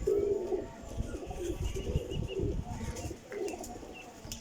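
A female pigeon coos softly in a low, repeated throaty rhythm, fairly faint, with a few light chirps and rustling around it; no talking.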